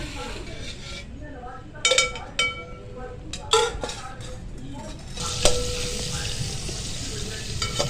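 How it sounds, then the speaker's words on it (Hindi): Chicken fries in ghee with green chillies, a continuous sizzle under metal spoon clinks and pan scrapes, with a louder burst of frying partway through; close and fairly loud, with a faint voice at times. "देखो थोड़ा घ्यो पा के सब चीज़ा फ्राई करनी। चिकन भी पाना।"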